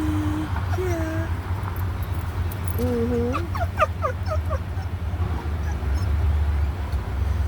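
A dog whimpers in the back seat of a car, a series of rising, high whines and short yips over the steady low rumble of the moving vehicle, with a voice briefly audible.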